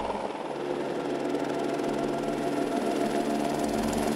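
An Airbus Écureuil single-turbine helicopter's steady turbine whine and rhythmic rotor thrum, continuous and fairly loud, with no speech.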